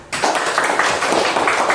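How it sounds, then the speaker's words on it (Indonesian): Classroom of students clapping hands together on a teacher's cue, a sudden loud burst of dense clapping that continues steadily. "Semuanya tepuk tangan"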